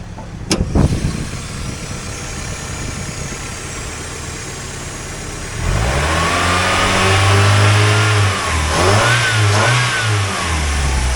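A high-mileage 2002 Mazda Miata NB Special Edition engine runs close by, idling steadily before climbing into several loud revs that rise and fall in pitch, with no talking.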